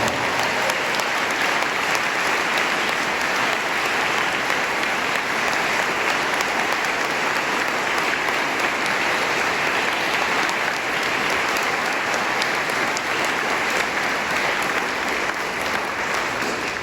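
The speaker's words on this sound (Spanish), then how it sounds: "Y ahora denle un aplauso al Rey de Reyes y Señor de Señores, como Él se merece." Sustained applause from a church congregation at a sermon, steady and dense throughout with no pauses, a full room of hands clapping together.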